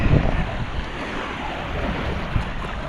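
Ocean waves wash over a sand bar at Buntod, Masbate, as a steady broadband rush with wind buffeting the microphone and low rumbling surges throughout.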